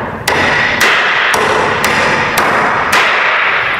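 A 14-ounce smooth-head hammer with an anti-shock fiberglass handle strikes six times in a steady, evenly spaced rhythm, each blow a sharp, loud crack over a constant background hiss.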